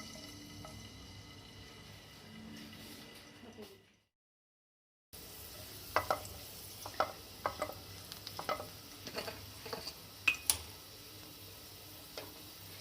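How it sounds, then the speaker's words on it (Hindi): Quiet sizzling of three garlic cloves frying in oil, with small crackles and pops after a brief silence, close by. "3 चमचा ऑयल लिया है, इसमें हमने 3 लहसुन की कलियां डाल दी हैं"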